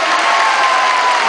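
A shopping-mall show audience claps and cheers in a loud, dense, sustained burst of applause with crowd noise mixed through it.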